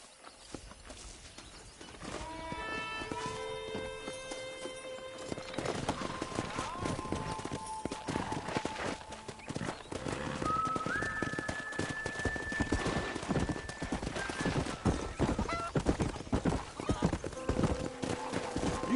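Wild horses in Red Dead Redemption gallop in a dense, continuous drumming of hooves that builds in loudness, with scattered whinnies and neighs over the herd's thunder, mixed under game ambience and faint voices.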